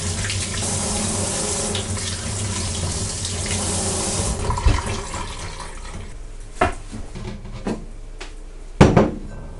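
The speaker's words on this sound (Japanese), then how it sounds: "ではまずは果物をきれいに洗っていきます。" Guava fruit is washed under a running kitchen tap, with a steady stream of water splashing into the sink. The flow stops partway through, and a few knocks and clatters of fruit and dishes follow.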